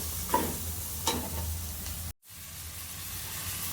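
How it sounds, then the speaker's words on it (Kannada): Coriander powder and chili powder fry in hot oil with a soft, steady sizzle, broken by a couple of scraping stirs and a brief dropout partway through. "ಸ್ವಲ್ಪ ಧನಿಯಾ ಪುಡಿ ಖಾರದ ಪುಡಿನ ಹಾಕ್ಕೊಂಡು ಚೆನ್ನಾಗಿ ಫ್ರೈ ಮಾಡಿಬಿಡುತ್ತೆ"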